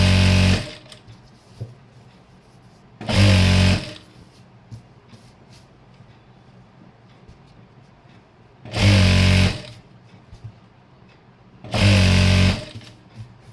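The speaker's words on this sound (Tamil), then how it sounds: "அப்படியே ஒரு தையல் போட்டுகிட்டே போக வேண்டியதான் ஸ்ட்ரைட்டாக" A sewing machine runs a straight seam on a chudithar pant in three loud close bursts of rapid stitching, with quieter fabric handling in between.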